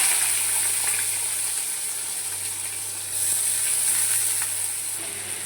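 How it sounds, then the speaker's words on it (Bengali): Potatoes and onions frying in hot oil with mustard seeds spluttering, a loud continuous sizzle with scattered pops, swelling briefly midway, with no talking. "তেল চড়বড় চড়বড় করে সর্ষেটা ফোড়ন হচ্ছে"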